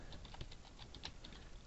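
Quick, light keystrokes patter on a computer keyboard in a steady run of soft clicks, faint and close against a low background hiss.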